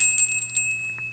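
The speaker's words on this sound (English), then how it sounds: "A lot of bell ringing today." Small bell chimes in a quiet ASMR tarot reading, a few light bright rings scattered across the moment, the last one slightly louder, close and delicate with no talking.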